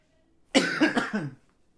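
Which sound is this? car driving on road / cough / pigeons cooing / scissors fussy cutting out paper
cough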